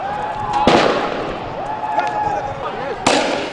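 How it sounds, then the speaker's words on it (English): Police fire tear gas at protesting students, producing two sharp, loud cracking bursts a few seconds apart over a continuous outdoor crowd noise and a siren-like wavering tone. "The police fired tear gas to disperse the students who were hurling stones at them"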